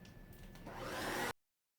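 A hair dryer blowing on high to power dry hair during a frizzy-hair straightening session, a rising, steady airy whoosh nearby that cuts off abruptly into silence.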